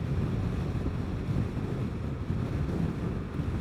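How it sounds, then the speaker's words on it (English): Strong wind roars past the rider of a Vespa GTS 300 scooter on the road, a dense continuous rumbling buffet at steady loudness with no pauses and no voices. "that wind is strong"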